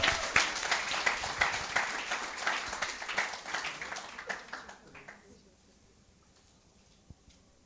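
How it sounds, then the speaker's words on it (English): Audience at a strategic thinking workshop and expo applauding, a dense round of clapping that thins out and fades to near silence after about five seconds, with one stray clap near the end. "One more time, round of applause for Winston."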